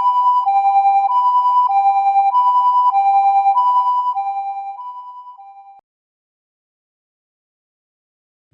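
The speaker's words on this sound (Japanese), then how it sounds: "これは救急車。" A cartoon ambulance siren alternates steadily between two high tones, loud and clean, for about five seconds, then fades away into silence.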